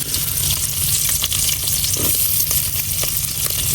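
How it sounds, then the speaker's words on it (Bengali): Chopped onion and garlic sizzle steadily in hot oil in a pot, a close, continuous frying crackle with occasional stirring scrapes and no talk. "পাতিলে এখন দিয়ে দিতেছি তেল, কিছু পেঁয়াজ আর রসুন"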